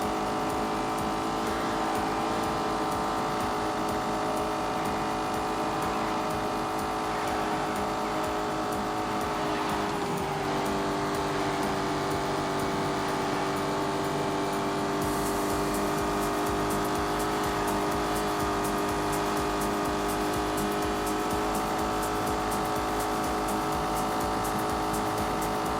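A powerful sports car in a racing video game cruising in Grand Touring mode, its engine a steady, smooth drone with little change in pitch, continuous and fairly loud with no talking.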